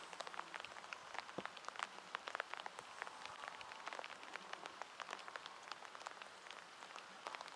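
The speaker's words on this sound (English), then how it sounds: "Dag blasted rain." Rain falling steadily on a surface during a catfishing trip, a dense patter of drops at moderate distance with no voices.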